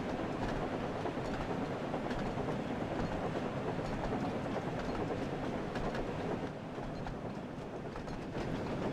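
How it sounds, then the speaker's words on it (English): A train rolls steadily through the Thomas & Friends Wonders of Sodor railway simulator game, a dense continuous rumble with clickety-clack of wheels on track, loud and unbroken with no talking over it. "it's really at its heart just a train simulator game"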